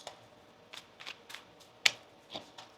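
Tarot cards being shuffled by hand, a series of soft riffling flicks and one sharp snap near the end, faint and close with no talking.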